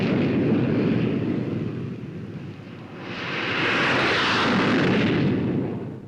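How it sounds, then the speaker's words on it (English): Gloster E.28/39, the first British gas-turbine aircraft, flying over English fields in 1941 with a continuous turbojet roar. The roar dips briefly, then swells with a louder hiss as the aircraft passes. "It was 1941 when the sound of a turbojet was heard over English fields."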